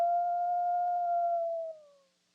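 A single wolf howl used in a radio ad for protecting Minnesota wolves, one long clear sustained tone that fades and drops in pitch at the end.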